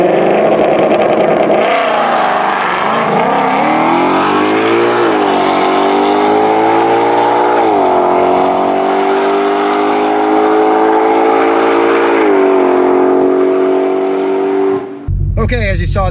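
A 2020 Ford Mustang GT500 on a drag strip roars hard off the line, its engine note rising through several gear changes in one continuous loud pull that fades before a brief cut at the end.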